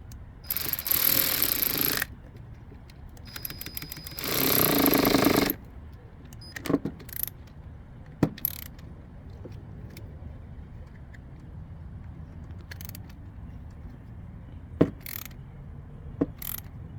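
Ratcheting as a part is tightened on a Troy-Bilt Mustang XP zero-turn mower that won't start: two longer bursts of rapid clicking, then a few short sharp clicks and taps, close by against a quiet background.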